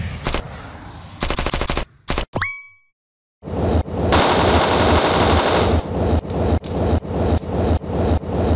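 Rapid automatic gunfire bursts in a zombie shooter mobile game, loud and close, broken by a short silent gap and then sustained shooting.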